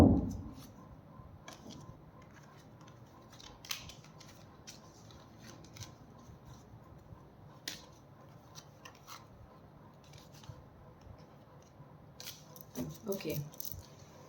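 A deck of tarot cards is gathered and handled, with soft, scattered flicks, taps and riffling clicks close by, sparse at first and busier toward the end.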